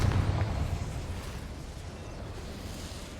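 A Confringo fire spell cast in the Hogwarts Legacy video game gives a steady, rumbling blast that holds low and loud throughout and fades slightly toward the end, with no talk over it.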